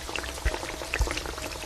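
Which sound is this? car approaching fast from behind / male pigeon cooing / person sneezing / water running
water running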